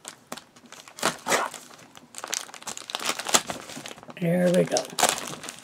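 Close, crackly crinkling and tearing as a package is cut open and its plastic and paper wrapping pulled away in several bursts, with someone speaking briefly between them.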